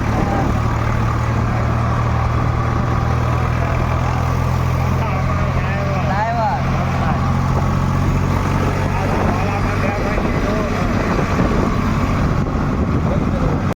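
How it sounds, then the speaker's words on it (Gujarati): A tractor engine rumbles steadily nearby with a low, continuous drone, and people talk over it as a tractor approaches ahead on the road. "અને આગળ વાળું એ ટ્રેક્ટર આવતું છે"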